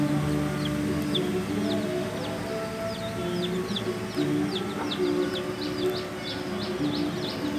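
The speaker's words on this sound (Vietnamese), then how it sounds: "chim nó kêu kêu muốn chết nữa kìa" Ground doves call repeatedly in the outdoor countryside, with short chirping notes recurring steadily over a constant droning background of insects or ambient hum, no voices.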